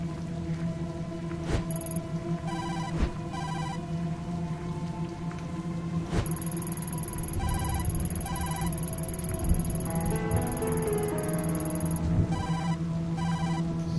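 Telephone bell rings in repeated double bursts throughout, Kazuki's phone found inside a locked dumpster in a supernatural Tokyo detective video game, set over a steady background of rain-like hiss and ambient music.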